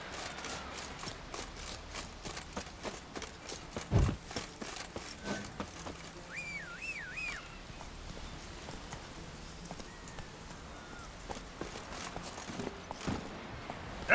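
Roach, the horse in The Witcher 3, clip-clops along at a steady trot, hoofbeats repeating rhythmically at moderate distance over a faint outdoor ambience, with a brief louder knock partway through and no talking.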